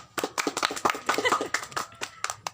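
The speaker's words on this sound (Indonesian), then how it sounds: "Beri tepuk tangan buat Mas Diva." A small class of primary school pupils claps with quick, uneven hand claps for a few seconds, close and lively, with faint voices mixed in.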